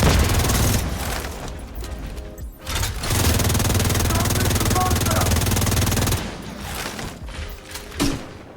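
The St. Elmo's Engine exotic assault rifle in the video game The Division 2 fires with an extremely high rate of fire, loud sustained automatic bursts broken by brief pauses, with gunfire dominating throughout.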